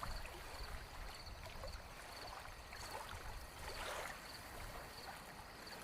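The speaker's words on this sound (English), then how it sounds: "The water laps gently against the dock, creating a soothing rhythm" Soft, steady water lapping against a wooden dock on a lake by a cabin, a faint continuous wash with gentle ripples and no voices.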